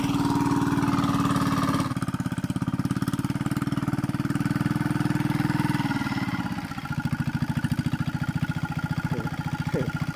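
A small diesel hand tractor engine (kuliglig) chugs steadily and loudly up close, its rapid thumping rhythm continuous throughout, with a brief dip in revs partway through.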